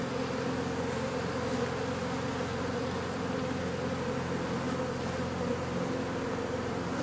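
Dense, steady buzzing of many honeybees around an open beehive frame, a close continuous insect drone that holds throughout with no voices.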